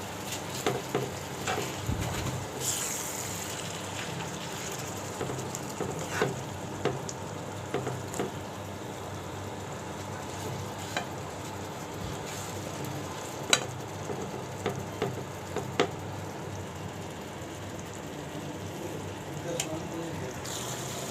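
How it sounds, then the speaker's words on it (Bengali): Chicken biryani masala frying and stirred in a pan: faint steady sizzle with intermittent scraping clicks of a spoon against the pan, quiet and continuous throughout. "মশলাটা ভালোভাবে আমি রান্না করে নেব"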